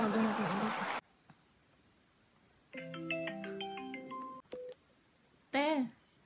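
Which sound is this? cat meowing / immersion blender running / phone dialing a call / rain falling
phone dialing a call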